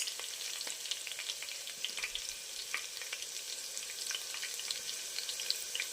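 Green garlic and green chillies frying with spices in a pan over a low flame for Gujarati khichdi, giving a steady close sizzle with faint crackles and scattered stirring clicks throughout, no talking.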